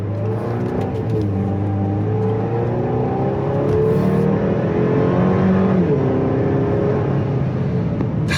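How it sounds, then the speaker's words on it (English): The 2026 Buick Enclave ST's engine accelerates from inside the cabin, a steady rising drone with the pitch climbing through upshifts, loud and continuous with no talking. "I'm about to speed up because I just want to let you hear this engine again."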